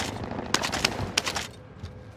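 Hostile gunfire in a first-person shooter game heard as a few sharp, fairly distant shots and short bursts, spaced irregularly over low ambient rumble.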